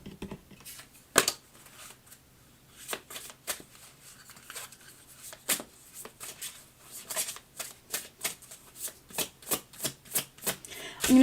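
Oracle-style message cards being shuffled in the hands, a run of crisp riffling slaps that grow steadier and more rhythmic toward the end, close and fairly quiet with no talking.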